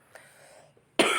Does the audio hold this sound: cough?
yes